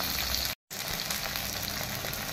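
Whole spices with bay leaf, cardamom, clove, cinnamon and black pepper sizzle steadily in a pan alongside thick-cut ginger and tomato, a continuous close frying hiss that drops out for an instant and then resumes.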